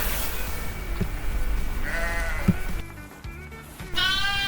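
Several sheep bleat close by in a pen on a homestead, overlapping calls with a loud one at the end, over steady outdoor background noise.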